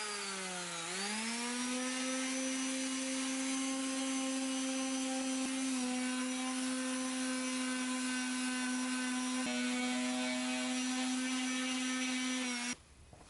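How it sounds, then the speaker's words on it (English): A 3D printed sword being sanded against lumber: a steady, droning motor whine that dips and rises in pitch as it spins up, holds for about twelve seconds, then cuts off abruptly near the end. "I'm going to sand it smooth on a harder surface"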